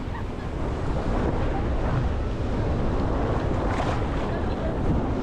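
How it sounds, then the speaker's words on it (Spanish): Sea waves rolling onto the beach at Playa del Carmen on a day with moderate swell, a constant dense wash of surf and wind noise close to the microphone. "Días como hoy que hay oleaje, aquí un poco más suave."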